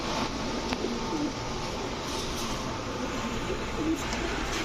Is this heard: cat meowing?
no